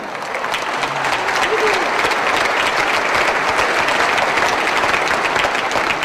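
Sustained, dense applause from an audience at the 2012 Philippine State of the Nation Address, loud and steady throughout without a break.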